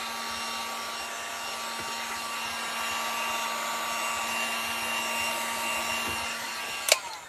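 A hair dryer blows steadily at close range to dry paint on a wooden craft plank, a constant whirring hum with a sharp knock near the end.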